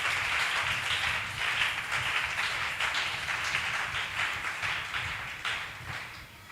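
A church congregation applauding God during a worship service, steady dense clapping from many hands that holds for several seconds without pause, fairly close and continuous.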